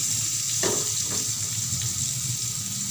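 Pointed gourd (potol) slices fry in a pan with a steady, close-up sizzle and a few soft scrapes of turning, continuous throughout.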